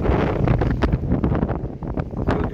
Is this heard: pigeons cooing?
no